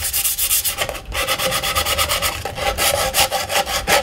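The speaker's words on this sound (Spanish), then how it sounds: "nosotros después pasamos al proceso de lijar el producto." A wooden product is sanded by hand with steady, close rubbing strokes in a repeating back-and-forth rhythm, loud and alone, with one brief pause.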